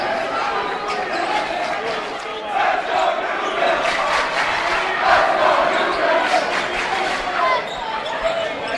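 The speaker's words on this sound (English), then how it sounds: "Cheering sections making a little noise." A crowd cheers at a basketball game, with a steady roar of voices rising and falling and a commentator's voice over it.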